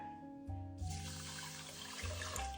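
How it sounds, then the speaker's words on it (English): Water poured into a pot of rice for sushi, a short close trickle and splash over faint background hum, quiet and lasting a couple of seconds. "Then you're going to add equal parts water."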